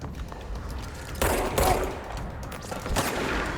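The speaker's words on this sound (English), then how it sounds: "Shotgun sucks." Shotgun blasts in the video game Control boom out in a few loud, separate shots over a busy background of game combat noise.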